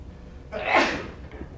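A single sneeze bursts out in a classroom during a math lecture, one sharp breathy blast lasting well under a second against quiet room tone.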